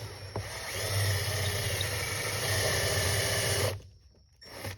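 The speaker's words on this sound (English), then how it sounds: "I'm going to drill out these rivets for the warning labels" Small drill bit boring out the rivets that hold warning labels on a 2020 Yamaha YXZ, a steady whining grind for nearly four seconds, then a sudden stop and a brief quiet before it starts again.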